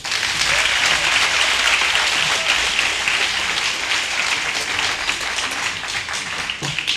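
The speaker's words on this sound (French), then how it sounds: "je vous prie de l'applaudir" An audience at a university debate final breaks into sustained, loud applause, dense clapping that holds steady for several seconds and tapers only slightly at the end.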